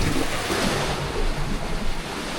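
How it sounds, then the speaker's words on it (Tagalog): Sea waves at Dumaguete surging and crashing close by in a loud, continuous wash of surf, with wind buffeting the microphone throughout. "Lumalakas na ang alon!"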